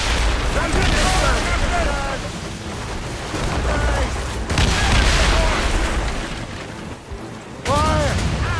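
Ship cannons boom repeatedly during a naval battle in Assassin's Creed Rogue, heavy low blasts rolling over splashing water while crew voices shout loudly throughout.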